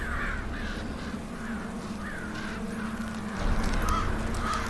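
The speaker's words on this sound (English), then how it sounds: "You can hear the crows." Crows caw repeatedly in a dark, cold scene from Game of Thrones, a series of harsh calls spaced a second or so apart over a low steady rumble, with no voices.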